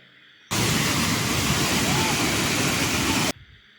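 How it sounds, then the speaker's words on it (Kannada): A loud, roaring rush of falling water from Abbi Falls near Sakleshpur starts abruptly, holds steady as a dense broadband roar for about three seconds, then cuts off. "ಬೋರ್ಗರೆಯುವ ಜಲಪಾತದ ಶಬ್ದ ಮೇಳೈಸುತ್ತದೆ"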